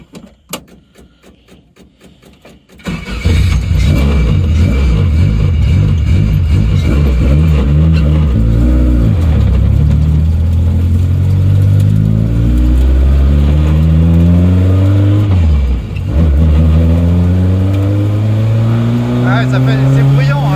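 A car engine starts after a brief quiet stretch, then roars loudly and revs up and down repeatedly, with climbing and falling pitch, close by.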